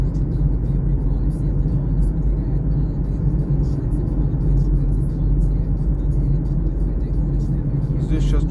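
A Mitsubishi ASX 1.8 with a CVT cruises on a road at moderate speed, its steady engine and road rumble droning continuously and fairly loudly throughout, with a voice speaking over it.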